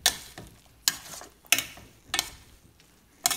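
A spoon scrapes and knocks around a pot of thick koottu curry in five or six distinct strokes at a steady, unhurried pace, close up with a faint bubbling hiss between them.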